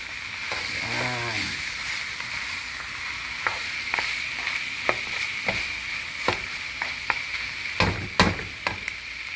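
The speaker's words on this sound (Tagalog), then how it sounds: "maingay ang kawali." Vegetables for pinakbet sautéing in a noisy frying pan, a steady loud sizzle with scattered sharp clacks of stirring utensils, and a brief voice early on.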